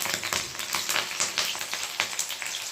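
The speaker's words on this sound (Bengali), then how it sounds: "পেঁয়াজ কুচি দেব এর সাথেই দিয়ে দেবো কারি পাতা" Chopped onion and curry leaves fry in hot oil with a dense, close crackling sizzle and scattered pops throughout, without voices.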